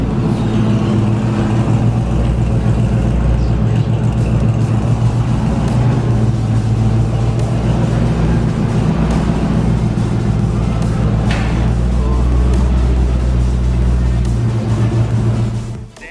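A deep, loud exhaust from a Fox-body Ford Mustang GT with new mid pipes rumbles steadily and close, with a throaty drone that holds for the whole stretch before cutting off at the end.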